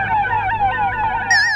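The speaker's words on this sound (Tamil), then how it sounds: "அப்பெல்லாம் ஒரு ஆம்புலன்ஸ் ஒன்னு குறுக்கால போகுது" An ambulance siren wails in a fast, regular up-and-down sweep, loud and close as it passes, with a second higher warbling tone joining near the end; no voices.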